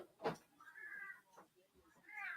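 A cat meows close by in a few drawn-out, rising calls separated by short pauses, with a brief sharper sound at the start.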